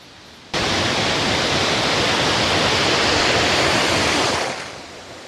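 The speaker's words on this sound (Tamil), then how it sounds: "ஆற்றுல தண்ணி நிறையா போகுது" Loud, steady roar of the rushing Thamirabarani river in flood at Mundanthurai forest, broadband and continuous, starting abruptly and easing off near the end.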